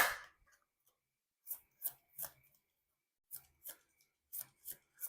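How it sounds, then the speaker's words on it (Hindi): Playing cards are shuffled in a series of short, crisp riffling bursts: a few at the start, a pause, then several more in quick rhythm. The setting is quiet and no one talks. "कार्ड को शफल करना बहुत ज़रूरी है"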